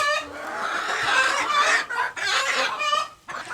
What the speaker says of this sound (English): Gets loud over here in the hen house.